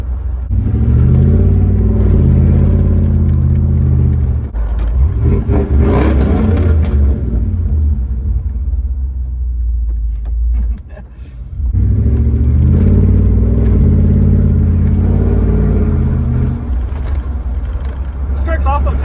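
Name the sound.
6,000-pound truck driving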